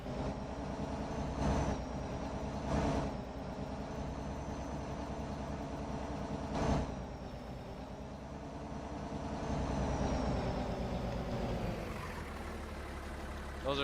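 An old two-wheel drive tractor's engine in Farming Simulator 22 runs with a steady low rumbling drone that swells and eases slightly before settling into a deeper idle, close and continuous, without speech.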